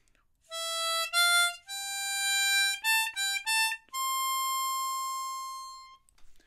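A diatonic harmonica in C plays a short sung-style melodic phrase: a few clean sustained reedy notes with stepped pitch changes, ending on one long held tone, solo and up close.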